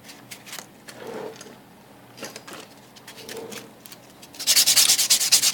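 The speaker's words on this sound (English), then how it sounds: "So all I'm doing is just filing and buffing the nail." A nail file and buffer work an acrylic nail, making soft, rhythmic rubbing strokes close by, then a louder, faster burst of brisk buffing at the end.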